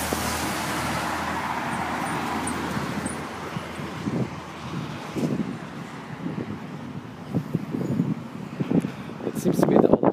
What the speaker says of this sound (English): A DC bus kind of speeding.